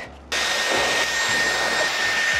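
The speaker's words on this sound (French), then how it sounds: "Et je vais pour cela utiliser tout simplement le Dyson avec l'embout sèche-cheveux." A Dyson Airwrap fitted with its hair dryer attachment switches on and blows steadily, a loud, even, high-pitched whooshing whine with a faint tonal hum that continues without pause after a brief quiet start.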